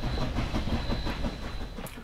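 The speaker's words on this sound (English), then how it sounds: "they've backed up the engine and then it's coming toward you" A Cumbres & Toltec railroad steam engine runs by with a dense, rumbling rhythmic chuffing and clatter, moderately loud with a faint steady hiss, no talk.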